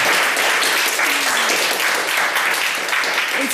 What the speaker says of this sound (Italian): Ragazzi, vogliamo fare un applauso al vostro allenatore.